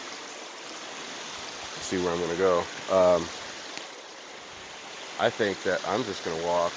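A creek flows beside an Oregon boondocking camp spot, a steady faint rushing wash running throughout as someone talks close by in two stretches.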